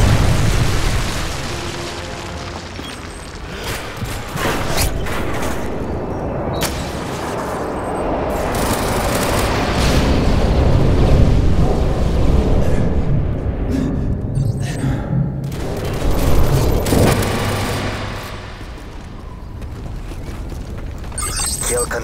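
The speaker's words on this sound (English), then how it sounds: "Friendly Predator missile inbound." Booming explosions from Predator missile strikes in the Modern Warfare 3 video game, heavy blasts and rumbling detonations rolling through most of the stretch amid scattered gunfire, with a voice speaking over parts of it.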